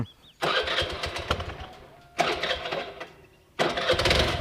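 A homemade mini van fitted with a motorcycle engine, started in three bursts that each rev up and run for over a second, loud and close, with some background clatter between.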